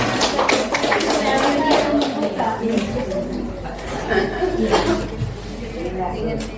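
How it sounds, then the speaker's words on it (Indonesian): Applause for two colleagues at an Indonesian teachers' gathering: dense clapping with scattered laughter and chatter, loud and close, keeping up throughout. "Kita berikan aplaus dulu untuk keduanya"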